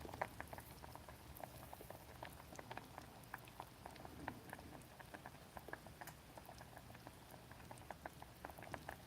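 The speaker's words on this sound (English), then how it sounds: "Let's listen to the bubbling." Liquid bubbles softly at a boil, a dense, continuous patter of small pops and blips at low volume, close and steady, with no voices.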